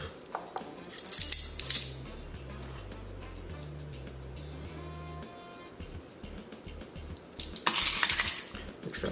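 A utensil clinks and scrapes against a bowl while a marinade with salt is mixed for lemon-herb salmon. A burst of clatter comes first, then background music, then another cluster of clinks near the end.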